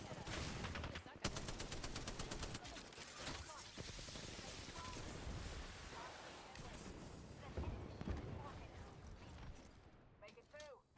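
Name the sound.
enemy squad gunfire in Apex Legends video game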